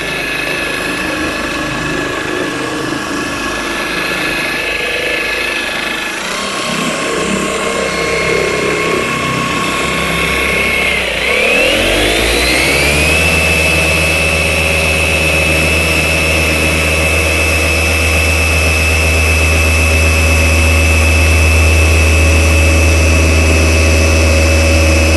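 A Flex machine polisher runs on car paint with a loud, continuous whirring drone, its pitch shifting midway as the pad settles and then holding steady, with no talk.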